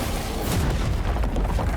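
Explosions in Space Marine 2 game footage, a dense rumbling boom with bursting impacts, loud and continuous across the short stretch with no voice.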